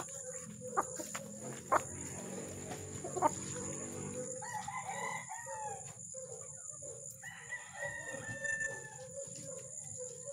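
Chickens on a farm during feeding time, including a brooding hen, with a few sharp clucks early on and softer calls over steady background noise; no talking.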